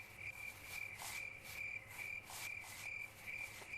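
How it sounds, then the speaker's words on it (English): Loud crickets chirp in a steady, dense pulsing chorus close by, repeating bursts throughout with no voices. "Some really loud ass crickets."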